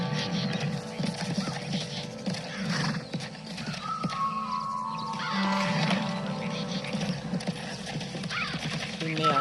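Horse hooves clip-clop steadily in an open-world offline mobile game, with a whinny and faint mechanical clanks, while players talk over the sounds throughout.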